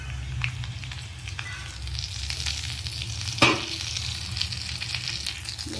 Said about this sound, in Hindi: इसमें राई, जीरा और सौंफ डालकर इसमें छौंक लगाऊंगी।